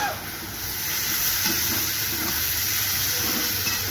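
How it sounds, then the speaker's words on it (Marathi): Pumpkin sautéing in a pan, a steady close sizzle with faint stirring scrapes and no talking. "तर आता आपण याच्यात भोपळा घालून घेऊया."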